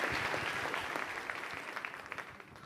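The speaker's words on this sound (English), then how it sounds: "One more round of applause for your top three." Audience applause for the top three students at a student competition event, a fairly quiet, continuous patter of clapping from a crowd that slowly fades.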